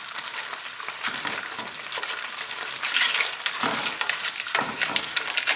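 A clove of garlic sautéing in a pan over medium-high heat for a lobster bisque: continuous close sizzling and frying crackle with occasional stirring scrapes, no talking.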